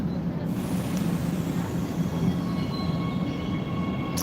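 A Siemens-built metro train runs underground with a steady, dense low rumble and rolling wheel noise, continuous and close, with faint high squeals riding over it.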